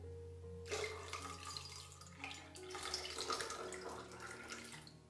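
Water pours steadily into a blender for a few seconds, a close splashing gurgle with a brief pause midway, no voices.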